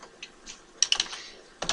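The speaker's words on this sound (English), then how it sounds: "if I type in dim style" Keys clatter on a computer keyboard while entering a command in AutoCAD: a few isolated taps, then a quick cluster of strokes and another short burst, close and fairly crisp in a quiet room.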